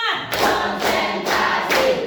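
Children in a classroom clap in unison as part of a counting clap game, four sharp group claps landing at a steady rhythm, loud and close with a little room echo.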